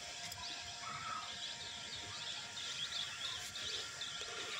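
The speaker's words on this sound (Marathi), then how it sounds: "कसं चिमण्यांचा चिवचिवाट येतोय आवाज." Sparrows chirp at a rural farmhouse at dawn, a steady, fairly faint chorus of high tweets and twitters running over soft outdoor background noise.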